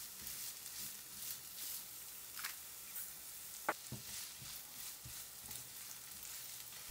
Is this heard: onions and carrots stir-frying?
yes